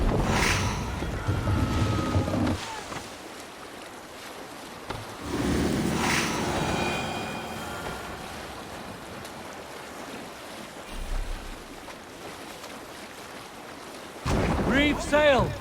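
A Viking longship sails the open sea in the game Assassin's Creed Valhalla: steady wind and rushing waves, with loud shouted voices at the start and again near the end.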